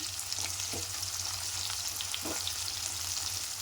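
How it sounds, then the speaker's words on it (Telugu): Sliced onions fry in a pan for a brinjal masala curry, giving a constant dense sizzle over a low hum, with a couple of faint soft stirring scrapes. "ఉల్లిగడ్డ కొంచెం కలర్ వచ్చే వరకు వేయించుకోవాలి"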